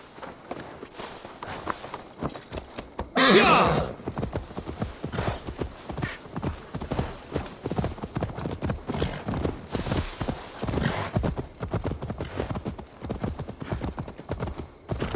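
Horse hooves clip-clop in a steady walking rhythm in Assassin's Creed Valhalla, close and clear, continuing throughout with a brief rush of noise early on.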